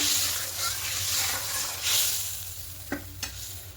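Mustard gravy seasoned with salt and turmeric comes to a boil in a pan for a brinjal dish, giving a close, steady bubbling hiss with a couple of brief sharp clicks toward the end.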